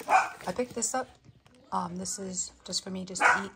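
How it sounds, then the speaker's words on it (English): A dog barks at a newly arrived dog in the house, several short barks mixed in under a person talking close by. "There is a new dog in the house,"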